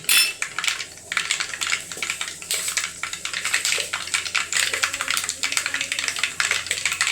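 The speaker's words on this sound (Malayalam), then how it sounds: "കടുക് പൊട്ടട്ടെ." Dense, irregular crackling and popping of mustard seeds spattering in hot oil, continuous and fairly close throughout.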